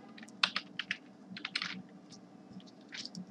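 Rapid typing on a computer keyboard: a quick, uneven run of close keystroke clicks, with small clusters and short pauses, and no talking.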